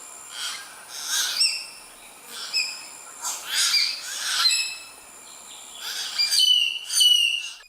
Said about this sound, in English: The bird that Messiaen is imitating is supposed to be a minette en tout, otherwise known as a common hill miner, and it probably sounded a little something like this